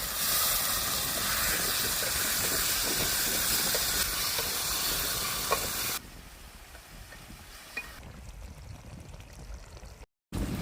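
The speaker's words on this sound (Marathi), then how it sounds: "थोडंसं पाणी घालून मसाल्यामध्ये आपण बटाटे छान परतून घेतलेत." A steady loud sizzle of potatoes frying in a wet masala with a little added water, a constant hiss that suddenly drops quieter partway through, with faint stirring.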